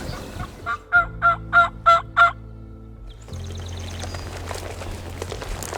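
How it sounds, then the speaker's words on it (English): Wild turkeys gobble and cluck outdoors in a run of five or six rapid, loud calls, followed by quieter background noise. "There's some turkeys up here"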